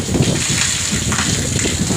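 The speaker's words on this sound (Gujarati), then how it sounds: "બહુ વરસાદ છે ગાઈસ" Heavy rain pours down on a flooded area, a loud, dense rushing wash of falling water with gushing, splashing texture, close and continuous.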